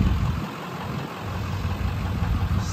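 A steady, low boat engine idling nearby at a boat ramp with a rough putter, continuous and even for the whole stretch.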